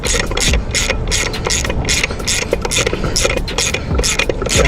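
Ratchet wrench loosening thermostat housing bolts on a 5.7L Hemi engine in a cammed Charger, rapid continuous clicking strokes, loud and close, in quick repeated bursts.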